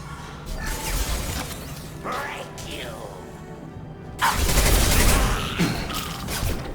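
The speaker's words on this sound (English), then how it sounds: "Taking heavy fire!" Heavy gunfire in the sci-fi video game Mass Effect 2, loud bursts of shots and impacts that build into a dense, sustained barrage, with voices talking over the combat.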